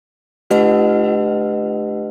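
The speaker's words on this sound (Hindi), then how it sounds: "भगवान का स्मरण करते हुए घंटा बजाइए।" A temple bell rings out once after a moment of silence, a single loud metallic strike whose bright tone hangs and slowly fades, heard close and alone.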